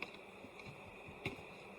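A dense swarm of honey bees buzzes steadily at an opened hive in a subarctic apiary in autumn, a soft continuous drone with a couple of brief louder passes close by.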